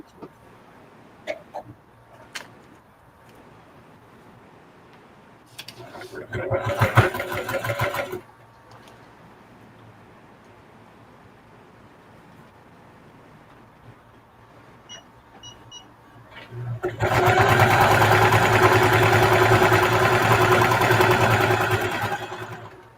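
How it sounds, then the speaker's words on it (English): A sewing machine top stitches a reversible bucket hat in two bursts, a short one early on and a longer steady run near the end, separated by quieter handling noises and a few clicks. "And so now I'm doing my top stitch."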